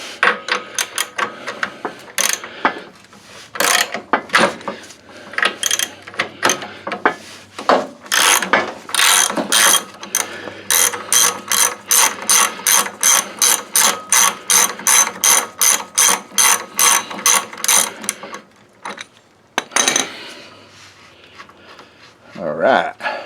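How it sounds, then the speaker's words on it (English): Ratchet wrench with socket turning bolts on a Cub Cadet pulling tractor, close and loud, clicking in bursts and then a long rapid run of even ratcheting strokes, with brief pauses between. "guess we'll grab another socket, another ratchet"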